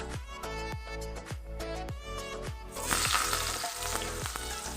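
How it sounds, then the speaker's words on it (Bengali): Potato and eggplant pieces hit hot oil already used for frying lentil dumplings, and a loud, steady sizzle starts partway through and continues, with background music underneath. "এখন এই তেলেই আলু আর বেগুনটাকেও আমি ভেজে নেবো"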